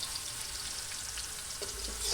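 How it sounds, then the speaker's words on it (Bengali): Onions fry in an iron wok over a wood fire, giving a steady close sizzle with a soft low thump near the end. "পেঁয়াজটা ভেজে নেওয়া হচ্ছে, একটু ব্রাউন ব্রাউন হয়ে গেলে তারপরে মশলা দেওয়া হবে"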